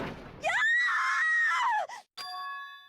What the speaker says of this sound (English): A scream. That voice just now.